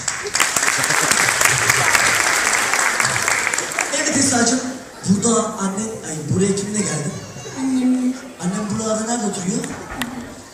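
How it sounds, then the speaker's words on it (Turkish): A studio audience on a Turkish children's TV show bursts into loud dense applause that fades after a few seconds, giving way to a host talking with a child. "büyük alkış"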